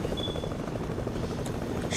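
A helicopter in Fortnite whirs with a steady, fluttering rotor chop at a fairly close, even level throughout, with no talk over it.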